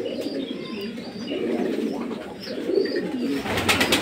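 Racing pigeons at a home loft coo softly and continuously at close range, a low rolling murmur with a few faint chirps and some rustling near the end.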